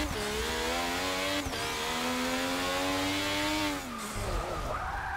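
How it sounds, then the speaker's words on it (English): Formula 1 car engine with turbo in Forza 6, a loud whining drive that climbs in pitch, dips briefly, climbs again, then drops away near the end as the car slows, with no talk. "Hear that turbo going."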